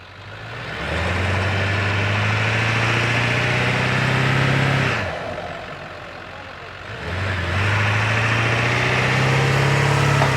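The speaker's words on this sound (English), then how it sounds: "So here we go, 4-wheel drive and gun it." A 4-wheel drive vehicle in soft sand revs hard to tow a bogged HR Holden Special station wagon, its engine roaring loud and close in two long sustained pulls split by a brief drop in revs.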